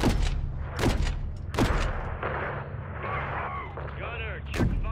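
Artillery fire in Call of Duty: Modern Warfare III, several heavy booming blasts at irregular intervals, loud and close, with radio-style voices talking between and over them.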